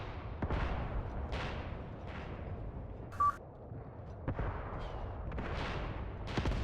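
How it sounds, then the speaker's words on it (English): Artillery fire booms in the World War II video game Mius Front, several muffled distant thumps rolling over a steady low rumble of battle, with a brief high beep in the middle. "Artillery is targeting these men over here."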